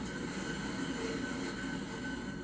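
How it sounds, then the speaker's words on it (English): Jungfraujochbahn cogwheel train running through a mountain tunnel: a steady, dense rumble and rolling roar heard from on board, continuous and unchanging throughout, with no talking. "This cogwheel train burrows deep into the mountain, hauling riders to the highest railway station on the continent."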